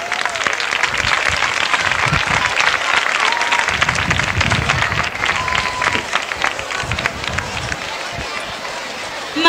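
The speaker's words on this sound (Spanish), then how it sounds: "un fuerte aplauso para ella" An audience at a flower-offering ceremony during a romería in Lepe applauds loudly for Mariana Botello. The dense, sustained clapping is mixed with crowd murmur and rumble throughout.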